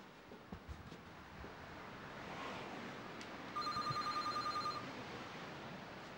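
A telephone rings in a quiet room, a faint background hush giving way to a loud, steady electronic trill pulsing rapidly for about a second near the end.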